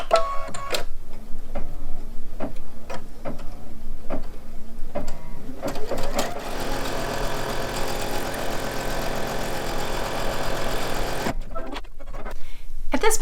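An embroidery machine stitches a tack-down line over batting on a mug rug, with rapid mechanical ticking that turns into a steady buzzing stitch run, then stops near the end, close and fairly loud.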